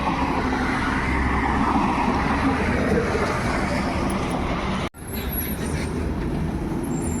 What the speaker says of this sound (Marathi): आम्ही निघालोय रात्रीच्या स्लीपर कोचने, म्हणजेच आपल्या बसने